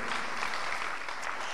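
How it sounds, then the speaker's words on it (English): A conference audience at a tech summit gives a short burst of steady applause, continuous clapping filling the brief moment. "A round of applause for Google Cloud"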